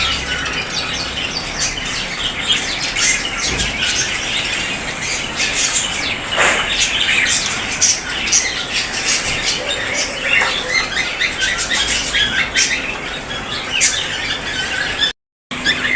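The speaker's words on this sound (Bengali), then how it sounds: "এটা হচ্ছে পাখিঘর" Many caged birds chirp, squeal and squawk in a continuous dense chorus at a bird shop beside a chicken market in Pabna, Bangladesh, heard close up with occasional wing flutters.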